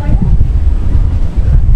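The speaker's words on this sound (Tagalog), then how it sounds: "Dito mahangin pala rito eh." Gusty wind buffets the microphone at a high, open viewpoint, a loud low rumble that swells and dips throughout while voices talk over it.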